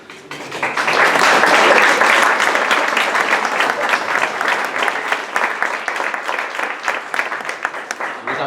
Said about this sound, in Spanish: Los aplausos fueron obligados